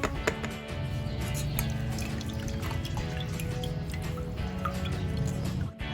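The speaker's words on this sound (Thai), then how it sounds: "เราก็จะมากรองใส่กระชอนแบบนี้ค่ะ เพื่อเตรียมปั้นกันนะคะ" Water drips and trickles steadily from soaked sago pearls draining in a kitchen strainer, a continuous wet patter with no talking.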